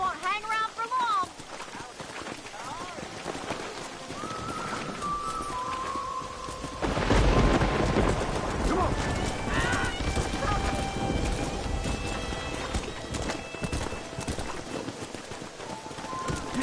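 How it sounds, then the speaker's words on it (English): Horses in the Red Dead Redemption video game gallop with rapid clip-clop hoofbeats amid shifting ambient noise, growing louder and denser midway, with a voice speaking over the action. "Those horses won't hang around for long."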